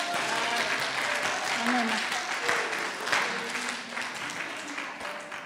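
A church congregation breaks into sustained, dense applause praising the Lord, loud and continuous throughout, with a voice speaking briefly over the clapping.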